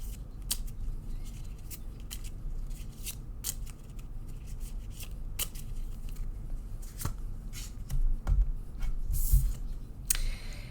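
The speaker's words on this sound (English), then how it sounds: "And here I shuffle until Spirit tells me to stop." Lenormand cards are shuffled by hand in a steady, close run of soft papery riffles and clicks, continuous and fairly quiet throughout with no talking.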